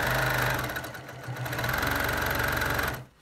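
A sewing machine stitching in the ditch on a t-shirt quilt runs at high speed with a dense, rapid mechanical chatter, close and loud and steady for about three seconds before stopping abruptly.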